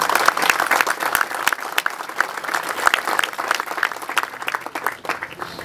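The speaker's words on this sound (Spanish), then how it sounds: "Un aplauso para ellos." An audience applauds at a company ceremony opening a new headquarters, steady dense clapping from many hands filling the room, loud and sustained without a break.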